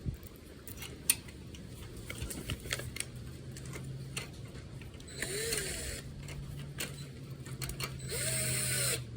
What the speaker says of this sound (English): I'm gonna bolt it exactly where that module was